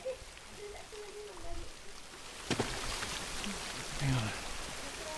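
Steady rain falls in The Last of Us Remastered, a continuous hiss of drops under game ambience and footsteps, with people talking briefly over it.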